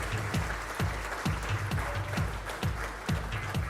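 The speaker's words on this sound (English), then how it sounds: "So the applause at this stage" A nursing award ceremony audience claps in a steady, rhythmic beat, with regular sharp bursts filling the hall at moderate volume.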